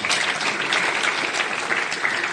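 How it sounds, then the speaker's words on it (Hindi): Audience applause at a school career fair, a steady wash of many hands clapping throughout, fairly loud and dense with no voices on top. "तालियां बहुत ज्यादा।"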